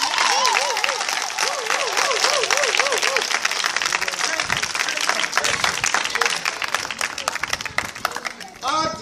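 A church congregation applauds and cheers for Jesus during a worship service, dense sustained clapping with shouts filling the whole stretch, a voice rising and falling over it, fading slightly at the end.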